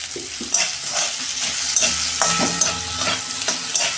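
Spices, tomato, salt and green chillies stir and fry in oil for vegetarian daliya, a loud close sizzle with repeated scraping strokes of a spoon against the pan.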